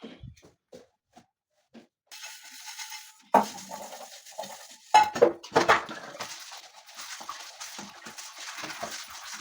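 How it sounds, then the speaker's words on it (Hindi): Dishes, pots and cutlery being washed in a home kitchen, with scattered clinks and clatters of metal utensils and steel vessels, some louder knocks, and running water hissing steadily through the second half. "तो जी यहाँ पे बर्तन वगैरह सारे खाली कर लिए थे, तो पहले तो मैं बर्तन साफ़ कर लूँगी।"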